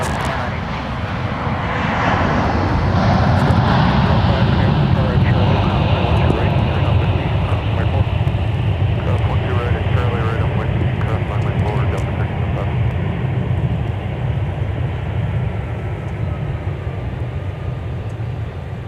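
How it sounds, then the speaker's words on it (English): Delta airliner arriving from Detroit and landing at MSP airport, a loud, steady jet roar with a broad rushing wash that swells and then holds, heard from nearby at the field. "Big Sexy touching down from Detroit"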